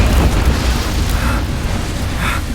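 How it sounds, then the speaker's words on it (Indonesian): Bomb explosion in a game, a loud, dense rumbling blast that fills the whole clip with heavy low roar and crackling debris, no voices. "Ryota langsung disambut dengan ledakan bom."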